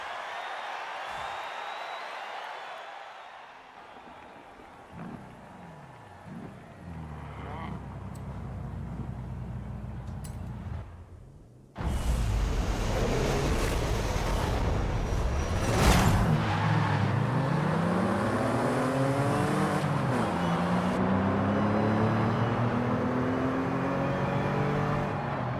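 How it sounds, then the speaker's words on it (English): Engine noise from Forza Horizon 5: a low rumble, then after a pause a louder revving VR6 car engine exhaust with shifting pitch sweeps and some crowd-like background. "These VR6 engines. I like the sound that they make. It's a nice exhaust note."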